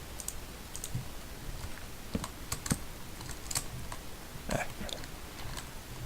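Keys clatter on a computer keyboard during a building game, irregular bursts of clicks and taps, close and moderately loud, with no talking over them.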